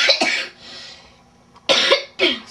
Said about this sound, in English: Sorry for my coughing, I'm sorry.